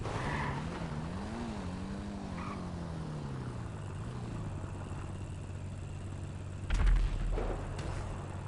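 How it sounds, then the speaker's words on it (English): A distant explosion in GTA Online, a sudden low rumbling boom late in the clip heard over steady game engine and ambient drone. "an explosion from the distance literally sounded off"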